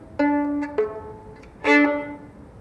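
A violin plays short sustained tones, a few separate notes with gaps between, clear and close in a quiet room.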